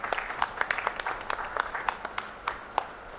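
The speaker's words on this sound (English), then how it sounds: "A round of applause for him as well." Scattered applause from a modest audience at a report launch: individual claps land irregularly at moderate volume and keep a loose, steady patter, with no talking.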